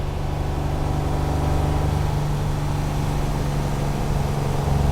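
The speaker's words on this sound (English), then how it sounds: "some of this noise is probably just due to a exhaust system that's just about worn out with quite a few holes" Car engine running with a worn-out exhaust system full of holes, a steady low droning rumble with a constant hum, heard from inside the car, continuous and without talk.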